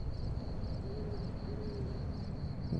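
A low owl hoot sounds twice in Fallout New Vegas, soft and fairly distant, over a constant faint high insect trill and a rumbling background.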